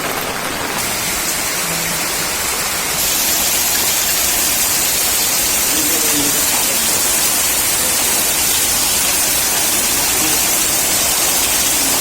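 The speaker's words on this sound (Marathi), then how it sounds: "खूप पाऊस पडतोय आणि तो आत्ता पण पडतोच आहे" Heavy monsoon rain pours down steadily through the night in Rajapur, Konkan, a dense, unbroken roar of water that stays loud and even from start to finish, with no voices.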